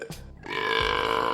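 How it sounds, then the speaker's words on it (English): A single loud, drawn-out burp in a burping contest, a brief sharp onset followed by a long, buzzing, croaky belch that holds steady to the end. "a burping contest"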